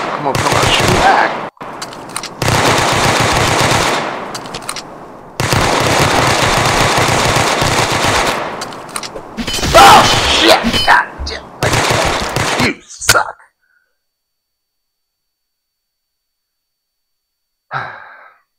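Rapid machine-gun and rifle fire rattles loudly in long bursts through a castle-escape video game map, with heavy breathing between volleys, then near silence before a last short shot.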